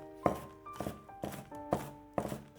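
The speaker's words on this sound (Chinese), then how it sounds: "这个时间准备1把小葱， 切成葱花。" A knife chops a bunch of green onions on a board in five distinct, evenly spaced chops, crisp and close in a quiet kitchen.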